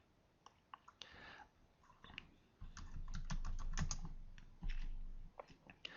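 Keys clatter on a computer keyboard, quick close taps in short bursts, with a low hum swelling in the background midway through and no voices.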